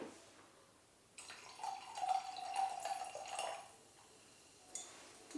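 Mediterranean tonic water pours into a glass with a soft, quiet splash and trickle lasting a few seconds, followed by a faint clink near the end.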